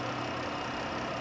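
A 2019 Dodge Caravan SXT wheelchair mobility van with a 3.6 V6 idling with the hood open, a steady, even mechanical hum with no changes in pitch.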